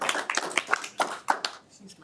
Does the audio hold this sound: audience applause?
yes